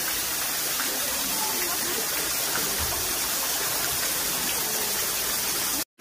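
A small indoor waterfall in a zoo's tropical hall, a steady broadband rush of falling water heard close and fairly loud, continuous with no talk, cutting off abruptly at the end.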